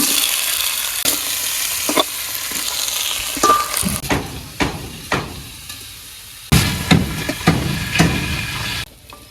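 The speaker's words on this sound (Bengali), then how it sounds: "কচুগুলো সুন্দর করে আগে ভাজা ভাজা করবো কচু দিয়ে দিলাম" Chunks of taro frying in oil in a pan with shrimp and onion, a loud close sizzle broken by repeated scraping stirs and clacks of a spatula, briefly dying down and then surging again.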